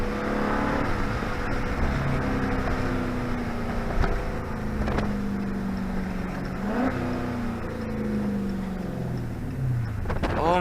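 A Dodge Charger Daytona 392 accelerates hard, its engine revving loud and close with rising and falling pitch across several gear pulls.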